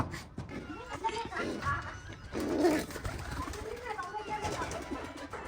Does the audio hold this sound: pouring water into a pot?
no